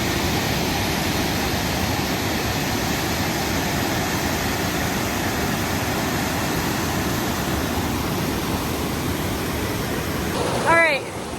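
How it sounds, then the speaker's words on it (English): Constant rushing roar of a waterfall, loud and unbroken throughout, with a brief vocal sound near the end, at Rainbow Falls in Gorges State Park in February. "this is the second waterfall on this hike"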